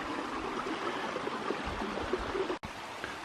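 Small cascading waterfall on a creek in a hemlock forest, a steady rushing wash of water that runs continuously, then cuts out briefly near the end before resuming.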